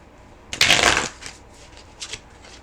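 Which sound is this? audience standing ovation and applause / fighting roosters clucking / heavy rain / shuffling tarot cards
shuffling tarot cards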